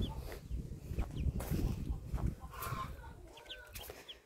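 Young chickens cluck and peep in a farmyard, with soft scattered calls and a few sharper chirps over close rustling and handling noise, fairly near.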